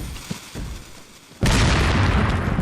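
In the video game Resident Evil 4, a grenade detonates after a few faint gameplay clicks, giving a sudden loud boom that hangs on as a sustained roar.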